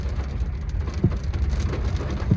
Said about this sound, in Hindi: और बारिश का मज़ा लेते हैं।